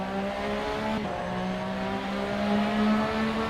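Sim racing game race car accelerating out of a chicane, engine note climbing steadily with tonal harmonics, loud and continuous without speech, a brief dip near the shift before the revs build again.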